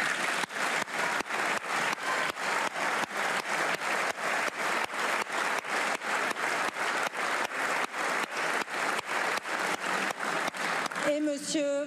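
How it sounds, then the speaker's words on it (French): Continuous applause fills a French National Assembly chamber, with regular rhythmic clapping steady throughout, and a brief tonal sound and murmur near the very end. "Écoutez les applaudissements."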